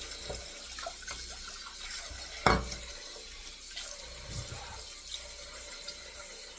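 Tap water runs steadily into a sink while a Kamasori shavette razor is rinsed under it, a soft continuous splashing broken by a brief louder knock partway through.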